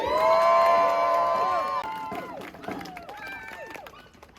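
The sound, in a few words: crowd applause and cheering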